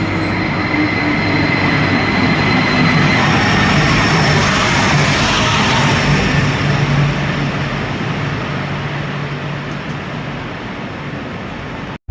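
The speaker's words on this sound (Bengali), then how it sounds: "এই তো চলে এলো আমার বুলেট ট্রেন" A high-speed bullet train pulls into a station in Spain, a loud sustained rumble and rush of wagons with faint wheel squeal, steady throughout and easing slightly near the end before cutting off.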